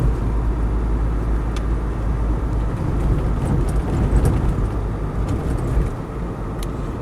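A Land Rover 110 station wagon with a 200TDi diesel engine and a 2-inch suspension lift drives along a road, its engine drone and tyre roar steady and close, with small rattles here and there.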